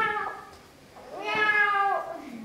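A cat meowing indoors, two drawn-out, close, tonal meows with a short pause between them.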